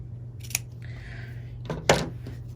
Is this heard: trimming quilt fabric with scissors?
yes